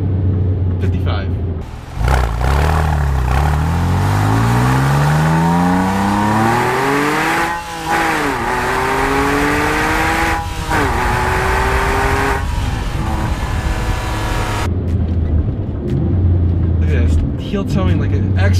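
A car engine roars and climbs hard through several gear changes, pitch rising and dropping repeatedly, loud and close, with voices talking over it.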